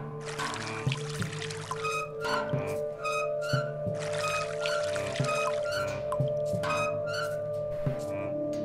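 Water pouring in the Samorost 2 video game, a steady stream under repeated bright chiming tones and soft plucked notes of game music, moderately quiet.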